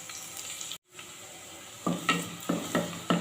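Finely chopped garlic hits hot oil in a pan for a spicy Mangalorean mackerel curry, giving a steady sizzle with several louder stirring scrapes near the end.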